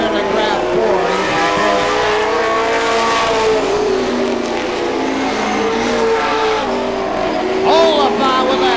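Pro Stock race cars roar around a short oval track during a night feature, several engines droning and revving together loudly and continuously as a race announcer talks over them.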